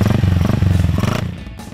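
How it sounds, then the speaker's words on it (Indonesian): A modified motorcycle hauling a heavy load of mustard greens chugs close by with a pulsing engine throb that fades slightly toward the end. "ngangkatnya ke bawah juga harus pakai motor yang udah dimodif kayak gini nih"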